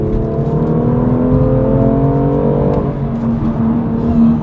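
A BMW M2 Competition engine pulls hard in third gear after an upshift, a loud, steady, rising drone heard from inside the car, with no voices over it.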